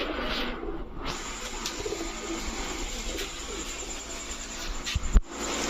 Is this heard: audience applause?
no